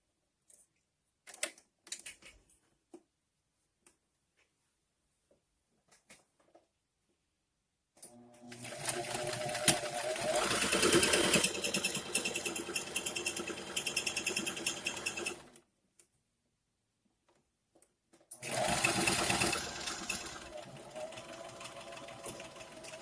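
A sewing machine stitches a shirt in two loud, steady running bursts, one long and one shorter, separated by quiet pauses with a few faint handling clicks.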